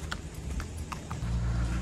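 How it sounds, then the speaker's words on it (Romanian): A horse's hooves clop on a beach in a brief run of soft, irregular footfalls, close by, over a low rumble of surf or wind with no talking. "am vrut cu calul pe plajă"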